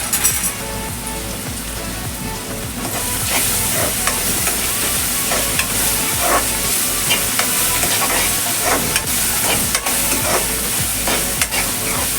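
Onion fries in a pan for a home-style chana masala, sizzling continuously and loudly up close while a utensil stirs it with repeated scraping and tapping strokes throughout.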